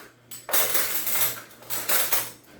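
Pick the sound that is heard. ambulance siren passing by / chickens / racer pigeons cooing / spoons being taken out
spoons being taken out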